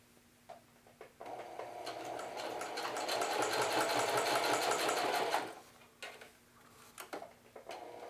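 Sewing machine running a zigzag stitch in one sustained whirring burst of about four seconds, with rapid rhythmic needle clatter, framed by quieter handling clicks before and after.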